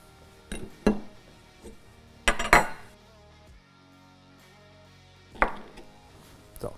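A wrench working a hex cap loose from a log splitter valve gives a few sharp metallic clinks and knocks, spaced irregularly with quiet gaps between, close and fairly loud.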